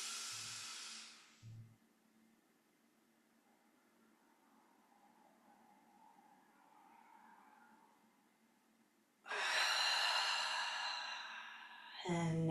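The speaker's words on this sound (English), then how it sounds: "Breathing in nice and deep, tightening up this area." Deep breathing during a guided relaxation exercise: one slow, drawn-out breath close to the mic, a long hissy inhale or exhale near the end and a brief breathy puff at the start, with quiet stillness between.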